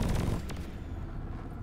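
Gunfire bursts in Deep Rock Galactic, a fast volley dense at the start, then a sharp shot partway through, with a rumbling game soundscape carrying on underneath.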